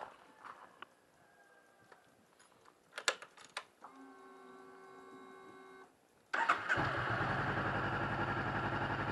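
A motorbike engine cranks and catches after some faint clicks and clatter, then settles into a steady, loud, close running rumble that continues to the end.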